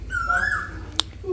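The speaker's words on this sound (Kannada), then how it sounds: "ಕೋಗಿಲೆ ನೋಡಿ ಬೊಬ್ಬೆ ಆಗ್ತಾ ಉಂಟು." An Asian koel calls near a home, giving a single clear, rising whistled note early on, followed by a brief sharp click against a quiet outdoor background.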